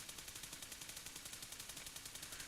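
An automatic weapon sprays in a mobile shooter video game, a steady, evenly spaced stream of rapid shots, roughly six per second, in one continuous burst.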